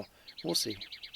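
An unseen bird gives a quick series of high, soft chirps outdoors, faint and repeated under a man's brief spoken words.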